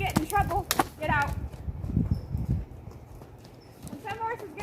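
Hooves of the horse Kimanie clop on the ground during a sending exercise in groundwork, quick and fairly close, moving faster amid a trainer's talk.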